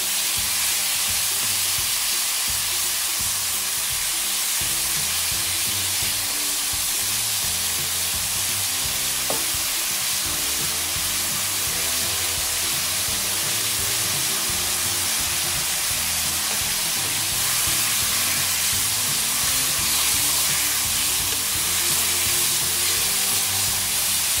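Steak frying in a pan makes a strong, steady sizzle that stays close and loud throughout, with no speech over it.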